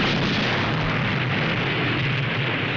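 A gun fired at a bridge, and the explosion that follows, in a World War II sitcom scene. It is one loud, sustained boom that fills the whole moment, close and overwhelming, without speech.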